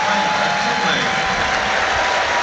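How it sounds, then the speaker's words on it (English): Warm applause from the stadium crowd at a Southampton versus Walsall FA Cup match as a player is substituted off, a steady, distant clatter of clapping that lasts throughout, with a commentator's voice faintly over it. "So Mara gets warm applause"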